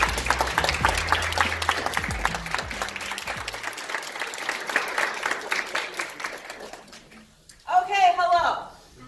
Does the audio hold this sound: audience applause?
yes